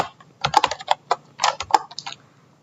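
Keys clatter in quick irregular bursts as a Python print statement is typed on a computer keyboard, close and clear with short pauses between clusters of strokes.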